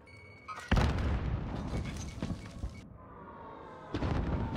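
A video game frag grenade detonates with a sudden heavy boom, followed by dense rumbling battle noise and a second blast-like burst near the end, all loud and continuous with no speech.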